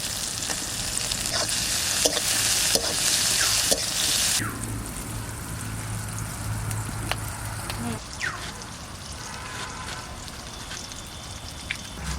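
Greens frying with salt and slit green chili in a pan, a steady close sizzle with intermittent stirring clicks and scrapes, dropping in intensity partway through, with some talking over it.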